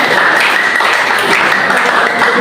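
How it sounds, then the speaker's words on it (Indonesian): Classroom applause from students during a discussion-leading session in Bandung, a steady dense patter of many hands clapping at close range, continuous and even throughout. "tepuk tangan"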